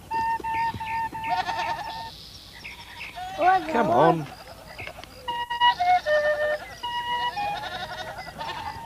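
Several goats bleat in overlapping wavering cries, loud and nearby, while a person briefly calls out among them.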